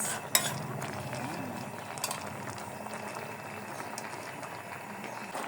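A pot of tinola soup bubbling on the stove, with a low, steady simmering burble and a few faint clinks of a utensil against the pot, with no voices.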